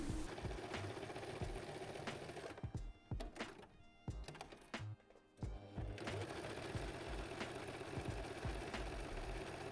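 A sewing machine stitches trousers being made into dungarees, whirring in fast continuous runs with a brief slower, stuttering pause in the middle before resuming at full speed.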